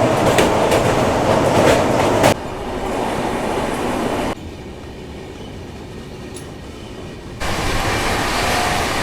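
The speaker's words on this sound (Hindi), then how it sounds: "आ गई ट्रेन नंबर।" A Garib Rath Express passenger train, number 12211 on the Muzaffarpur to Anand Vihar Terminal route, rumbles close by with steady clickety-clack, the loud roar dropping in stages and then swelling again, with no voices over it.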